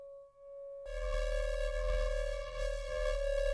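A rubbed wine glass tone processed through guitar distortion: a brief clean ring, then a sudden jump to a thick, buzzing, harmonically dense drone with a heavy low rumble that sustains loudly to the end.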